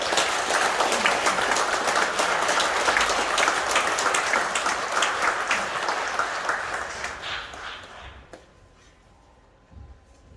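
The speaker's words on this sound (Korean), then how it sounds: "우리 박수로 환영하겠습니다." Church congregation at an evangelism seminar in Gwangju applauds to welcome a speaker, a dense sustained round of clapping that fills the room, then tapers off and fades out near the end.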